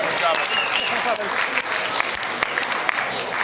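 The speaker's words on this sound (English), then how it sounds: "How about a round of applause for you guys for coming out tonight on a Wednesday night?" Comedy-show crowd at the Dickens Opera House on a Wednesday night clapping loudly and densely, a thick continuous roar of hands with a few sharper individual claps standing out.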